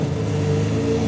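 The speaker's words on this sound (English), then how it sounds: "the car is about to start right now." A Lamborghini Aventador SV Roadster engine, started remotely, runs at a steady, close, mid-pitched hum with no voices.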